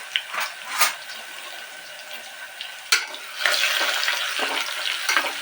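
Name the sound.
stirring pongal tempering in pan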